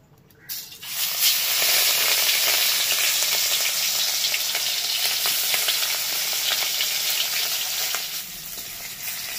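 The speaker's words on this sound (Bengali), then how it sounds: "তেলটা গরম হয়ে গেছে, এবার আমি মাছগুলোকে ভেজে নিই।" Rohu fish pieces fry in hot oil with a loud, steady sizzle and crackle that starts abruptly after a quiet first half-second and holds at full strength to the end, with scattered pops on top.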